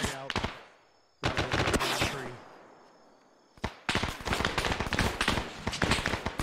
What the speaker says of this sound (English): Put down suppressive fire.